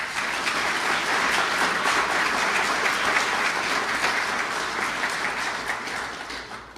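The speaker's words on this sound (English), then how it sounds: "Let's give them a round of applause." Sustained applause from a crowd at an induction ceremony in Stillwater, Oklahoma, steady and dense clapping that holds for several seconds before tapering slightly at the end.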